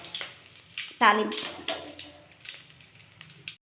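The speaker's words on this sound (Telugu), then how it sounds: "ఎండుమిరపకాయలు వేసి తాలింపు గింజలు కరివేపాకు వేసి వేపుకోవాలి" Dried red chillies, tempering seeds and curry leaves hit hot oil with a sudden close sizzle burst, then settle into a softer, steady crackle of frying.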